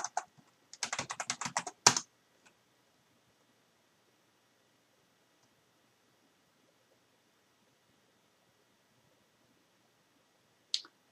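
A short burst of rapid keystrokes on a computer keyboard while entering network router configuration, close and crisp, then near silence with one last isolated key tap near the end.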